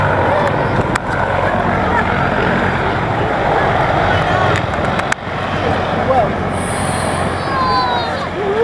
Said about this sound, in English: the downwash from the aircraft will actually blow over aircraft and vehicles